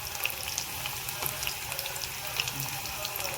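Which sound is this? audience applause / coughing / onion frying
onion frying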